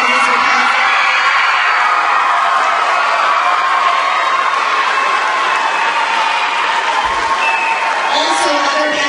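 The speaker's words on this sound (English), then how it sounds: "Let's take a round of applause for Miss Witkowski." A concert audience at a school spring band concert gives sustained applause for Miss Witkowski, with continuous, dense clapping and scattered cheers filling the hall at an even level.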